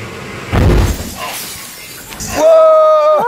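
An object fitted with gas bottles explodes in one deep, booming blast that rumbles briefly and fades to a rough clatter, followed by loud excited voices and a sustained tonal cry.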